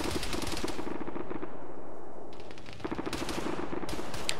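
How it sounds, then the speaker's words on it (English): Rapid automatic gunfire in an Arma 3 PvP battle, close and loud, with rattling bursts of shots that pause briefly and then resume, crackling over a constant rumbling background. "you have to hear those gunshots"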